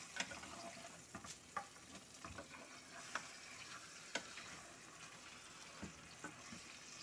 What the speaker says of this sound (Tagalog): ayan, haluin ng mabuti. Slow heat.